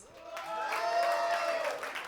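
A stand-up comedy audience at The Ice House in Pasadena answers with a brief, swelling burst of clapping mixed with scattered shouts and cheers, loud and close for about two seconds.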